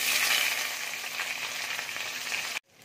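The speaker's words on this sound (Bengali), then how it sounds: "দেখো কড়াইয়ে তেল দিয়েছি, তেল গরম হয়ে গেছে, এবার আমি পেঁয়াজ দিয়ে দিচ্ছি।" Onions dropped into hot oil in a kadai sizzle with a steady, close, bright hiss that ends abruptly.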